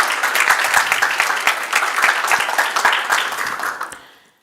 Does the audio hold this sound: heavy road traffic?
no